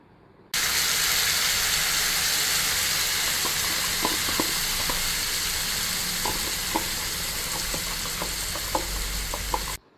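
A yogurt mixture poured into a hot pan for seekh kababs sets off a loud, steady sizzle and hiss that starts abruptly and holds, dotted with small pops and crackles, and cuts off near the end.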